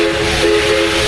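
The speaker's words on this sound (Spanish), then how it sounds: "el silbido del tren" A train whistle on an Ecuadorian railway route, a steady sustained tonal blast with a hissing, breathy edge that stays loud and unbroken for the whole short moment.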